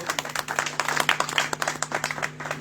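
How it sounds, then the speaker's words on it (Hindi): Live audience clapping at a Hindi poetry and ghazal recital, given to welcome the poet Pyasa ji to the stage. Dense, steady applause from many hands runs throughout the short stretch with no talking over it. "जोरदार तालियां हमारे प्यासा जी के लिए"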